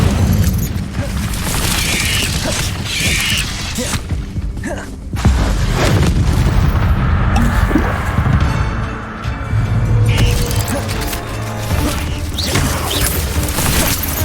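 A spell being cast in a Harry Potter-style video game, heard as heavy booms, crashes and rumbling bursts over a dense, continuous game soundscape, loud throughout.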